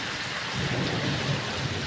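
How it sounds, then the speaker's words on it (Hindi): Heavy rain pours down in a village, a dense, even roar of drops close by with no voices over it. "काफ़ी तेज़ बारिश हो रही है, आप चेक कर सकते हैं बारिश को"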